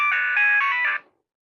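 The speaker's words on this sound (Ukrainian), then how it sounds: "Nokia Tune стандартна." A Nokia 3510i mobile phone plays its standard Nokia Tune ringtone: a bright, brief electronic melody of a few quick notes lasting about a second before it cuts off.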